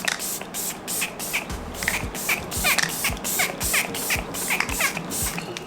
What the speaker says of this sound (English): And then I'm going to set my face with my e.l.f.